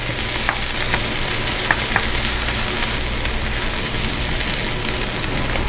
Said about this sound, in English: And then we're going to add 1/2 cup of cremini mushrooms to this. And stir fry that up.